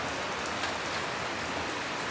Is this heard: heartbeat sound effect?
no